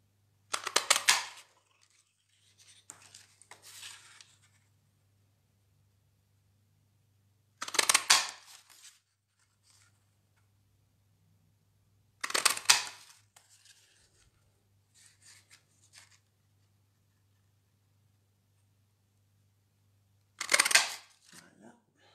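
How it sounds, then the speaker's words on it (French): A hand paper punch perforates four paper hearts, giving four sharp, separate crunching presses spaced several seconds apart, with quieter handling rustles between them over a faint low hum. "on va pouvoir perforer rapidement nos 4 cœurs"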